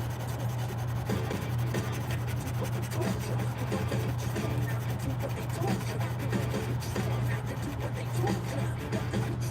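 220 grit sandpaper rubs steadily across a guitar body, a continuous close scratchy hiss with a low hum underneath.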